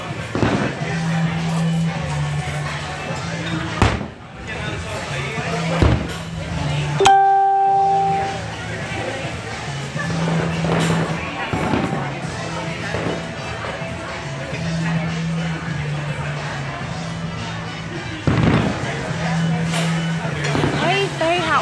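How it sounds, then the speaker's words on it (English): Fireworks at Downtown Disney go off in repeated booming bursts and crackles, spaced every few seconds, amid a noisy outdoor crowd with voices talking throughout. "I love fireworks, guys. It's like my favorite thing to watch."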